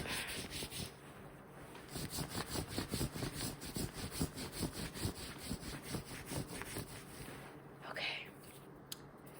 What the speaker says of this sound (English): And rubbing the arm.